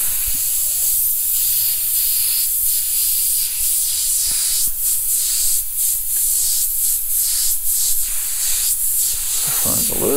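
An Omni 3000 airbrush sprays paint onto a T-shirt, giving a steady, close hiss that runs unbroken throughout, with faint soft pulses at times.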